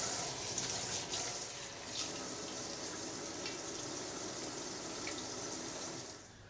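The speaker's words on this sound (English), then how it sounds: "I think it's time to wash the cabbage now." Tap water runs steadily into a sink while salted napa cabbage is rinsed, a continuous close gush with small splashing variations and no talk.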